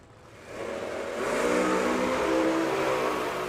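Drag racing cars at a street nationals meet at Bradenton Motorsports Park, engines roaring and building in volume as they accelerate, a sustained rising mechanical drone from a distance.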